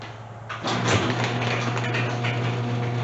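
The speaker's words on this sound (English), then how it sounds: "Here we see the garage door closing" A garage door driven by an automatic opener rumbles closed with a steady mechanical whir and a low motor hum, starting after a brief quiet moment and continuing evenly, close to the microphone.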